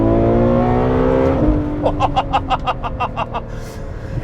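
A Ferrari F12 Berlinetta's engine idles with a low rumble, then the car pulls away and accelerates hard, the revs climbing through a series of rapid rising pulses, loud and close, without talking.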